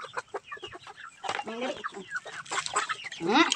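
Chickens cluck and squawk in quick, overlapping bursts up close while pecking at fermented fruit feed, with some faint voices in the background.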